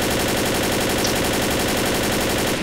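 A rapid, continuous burst of automatic gunfire from the zombie shooter video game Left 4 Dead, with loud dense shots that run without a break.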